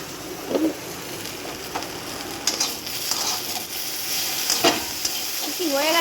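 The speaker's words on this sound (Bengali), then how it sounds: "কি হয়ে গেছে ভেন্ডি ভাজা?" Okra (bhindi) frying in a pan and being stirred: a steady close sizzle with scraping spatula strokes and a few soft clinks, with no talking.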